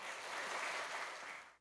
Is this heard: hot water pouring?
no